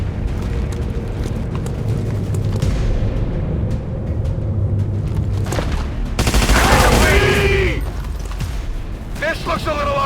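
Dense video-game gunfire from XCOM 2: War of the Chosen, a loud continuous fusillade of shots and impacts with a sharp burst of heavier fire and mechanical clatter near the end.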